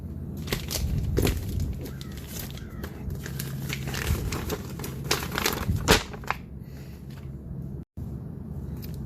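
A plastic bag holding dash cam cables and a manual, from a Samsara AI dash cam kit, rustles and crinkles close by in a steady run of crackly handling noise, with no voices.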